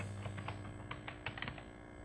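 Quick, light keystrokes on a computer keyboard while LaTeX is typed, a brief irregular run of soft clicks close by over a quiet room hum.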